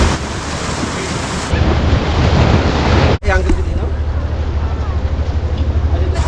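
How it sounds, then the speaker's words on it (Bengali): Big sea waves surge and break on the shore at Champa beach near Digha, a loud rushing roar mixed with wind buffeting, briefly cut off mid-way and then resuming more softly. "দেখা একটা বড় ঢেউ আছে"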